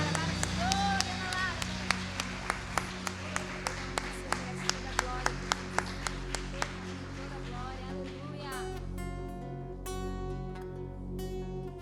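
Congregation clapping in rhythm during a worship service, steady sharp claps at an even tempo over music and singing, with the beat dropping away near the end while the music continues.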